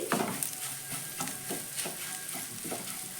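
Egg fries in a pan while a utensil stirs and breaks it into small bits, a steady sizzle broken by repeated scraping strokes, close and fairly quiet with no talk.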